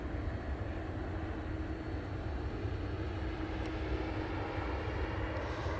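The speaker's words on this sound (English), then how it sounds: "And here is the Etihad. It's a 777 this morning." Etihad Boeing 777 airliner from Abu Dhabi at Manchester Airport, a faint, steady distant jet rumble with a low drone throughout.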